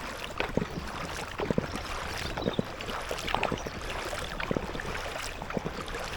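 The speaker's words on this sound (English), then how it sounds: "So if I'm just paddling steady away like this and I'm not really pulling that hard" Steady paddle strokes from an Aquaglide Deschutes 110 inflatable kayak moving along a canal, with soft repeated splashes and drips over a constant wind rush on the microphone.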